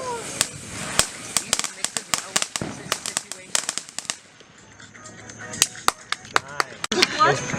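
Fourth of July fireworks going off nearby, a rapid irregular series of sharp firecracker cracks and pops, some loud and close, with a short lull before more bursts, under excited voices.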